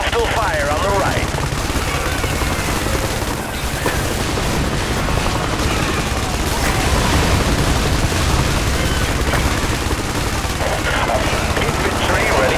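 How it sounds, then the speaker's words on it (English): Dense, continuous gunfire and booms from the video game IS Defense in a harbor battle, loud and sustained, with overlapping shots and blasts blending into a constant roar. "Hostile fire on the right."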